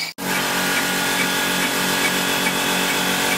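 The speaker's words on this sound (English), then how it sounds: "just starting to open out the bores in the top of the cylinder castings" A Tormach PCNC mill bores out a crank case cylinder casting with light cuts, giving a loud, continuous machining whine with a steady tonal hum that starts right after a brief gap.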